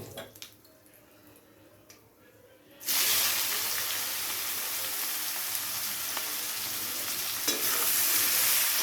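Chopped onions hit hot oil with black cumin (kalo jeere) for a Bengali rui posto, bursting into a loud, steady sizzle after a quiet start and frying on continuously with occasional stirring.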